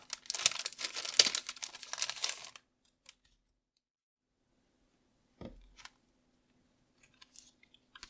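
A small notebook is pulled free of crinkly plastic packaging, with a dense burst of rustling and crackling up close, then quiet broken by a few faint taps and handling noises.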